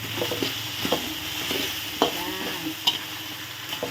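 Catfish stir-fries with curry paste and Thai eggplant, sizzling steadily and loudly close by, with repeated scrapes and clacks of a spatula against the pan.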